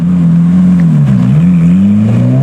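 A Ferrari F430 Challenge race car accelerates on a public street, its engine a loud, close, sustained drone from inside the cabin that dips briefly before climbing again.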